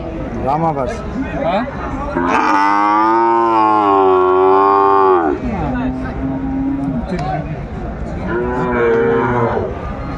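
Sahiwal cattle at a livestock market in Kurigram, Bangladesh, give a long, loud moo that swells and holds for several seconds, then lower lows follow, all over steady crowd murmur and nearby talking.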